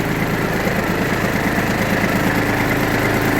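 An Iseki Sial Hunter 22S Japanese 22 hp mini tractor engine runs steadily in gear, a loud, close, even drone with constant mechanical vibration and no speech.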